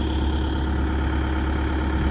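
A Sumitomo SH130F6 excavator engine idles steadily and loudly, a constant low rumble with even vibration throughout and no voices.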